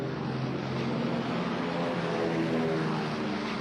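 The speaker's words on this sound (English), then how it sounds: "Many of these Marine planes taking off were destroyed by the Japanese fighters attacking the island" WWII Marine propeller planes roar steadily while taking off from an island airfield, a loud, dense engine drone that holds through without a break and with no voices.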